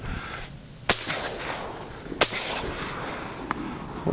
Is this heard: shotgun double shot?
yes